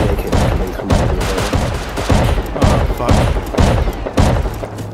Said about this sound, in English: I almost drained the shotgun trap